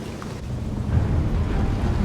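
Rain with low rumbling thunder in the side-scrolling adventure game Little Orpheus, a steady dense hiss over a deep continuous rumble that swells slightly midway, moderately loud and with no talking.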